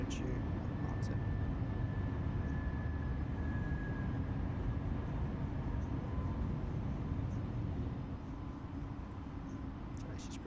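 An Airbus A320 taking off in the FlyByWire flight simulator, heard as a steady loud engine roar and rumble held throughout, with a faint whine and a pilot speaking over it.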